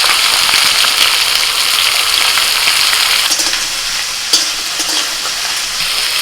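Potatoes being stirred in a frying pan with the white lower parts of onion plants added, giving a steady loud sizzle with scraping stir strokes throughout, a couple of sharper clacks near the middle and end, and no voices.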